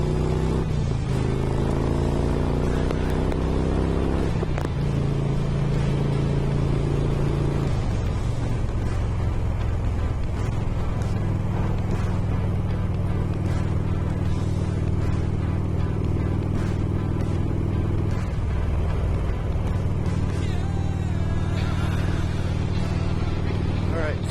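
A motorcycle pulls away on a highway, its engine note rising and shifting through the gears, loud and constant under heavy wind rush from the rider's position.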